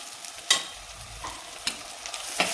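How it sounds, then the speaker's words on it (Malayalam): A spoon stirs green chillies and tomato in a hot frying pan while cooking sardine curry, giving a soft sizzle broken by a few sharp scraping strokes against the pan at irregular intervals. "ഇതെല്ലാം കൂടിയിട്ട് നമുക്ക് നന്നായി ഇളക്കിയെടുക്കാം."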